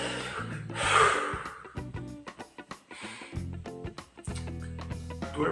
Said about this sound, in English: he's clearing his throat